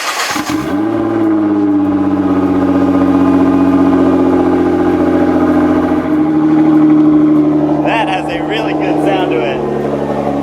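Inside the cabin of a Nissan GT-R with the rear seat cushions removed, the engine fires and holds a loud, steady droning hum with fuel pump whine, plus brief higher rattly bursts near the end.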